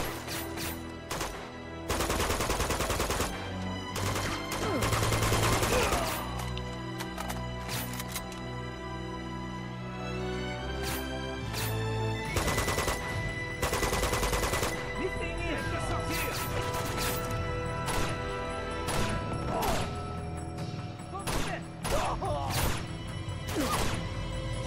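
Gunfire and crashing impacts in the video game Uncharted 2, loud bursts of shots over continuous game music and effects throughout, with intermittent heavy hits.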